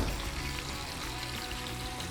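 Flathead fish fillets frying in rice bran oil, a dense continuous sizzle and crackle, close and steady for the whole moment.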